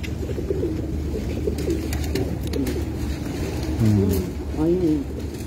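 Soft pigeon coos rise briefly near the end, a couple of low throaty calls over a quiet background hum.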